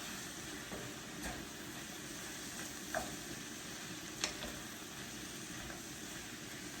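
Kielbasa and cabbage sizzle steadily in a pan, a soft continuous frying hiss with a few light clicks of a wooden spoon against the pan.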